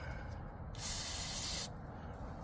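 Carburetor cleaner sprayed onto the carburetor of a Stihl 028 AV Super chainsaw: a single sharp, hissing burst of about one second that rises abruptly out of a quiet background and then cuts off.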